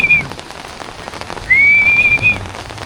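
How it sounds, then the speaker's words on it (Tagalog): Steady rain falls outdoors, hissing and pattering close by on surfaces. A couple of thin, high whistles ring out over it, and no one speaks. "Umuulan."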